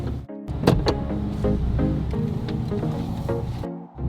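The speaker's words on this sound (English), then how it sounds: "right now we're driving over to my mom's neighbor, Brenda." A car drives along with a steady engine and road hum and some tonal whining layered over it, continuous and fairly close throughout.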